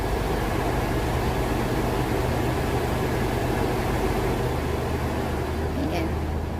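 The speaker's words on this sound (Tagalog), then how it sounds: "naririnig nyo po na mas napakalakas po ng AC nito" A Suzuki Wagon R's air conditioner runs at a strong setting inside the car, giving a steady, loud broadband blowing hiss that stays even throughout with no talk over it.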